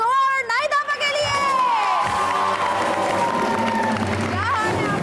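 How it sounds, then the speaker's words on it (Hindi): A television game show audience cheers and whoops for a contestant, with shrill excited voices and clapping swelling loudly over music and a host's voice. "बहुत सारी तालियां फातिमा कौर नाइदाफा के लिए"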